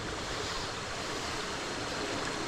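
Water in a creek on a hiking trail up Khao Ra on Ko Pha Ngan, Thailand, rushing in a dense, constant broadband roar, close and loud with no pauses and no voices.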